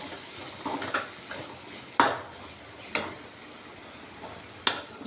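Chili powder and coriander powder frying in a hot pan for mushroom curry, with a soft steady sizzle and several sharp scraping stirs of a spoon against the pan, close and alone.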